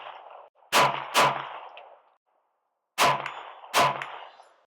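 Four sharp gunshots fired at distant targets during home-defense shooting practice, loud and close, arriving in two pairs with a short gap between them, each crack trailing off in a brief echo.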